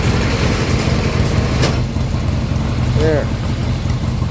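A car engine runs steadily after repair, an even mid-pitched drone heard close, with a short spoken word and a brief squeak over it.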